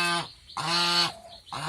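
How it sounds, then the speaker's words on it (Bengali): A crested goose gives a run of loud, close honks, three harsh calls in quick succession, with no other sound around them. "আমার আর একটা টোপওয়ালা হাঁস এই যে ডিম দিতে আসছে"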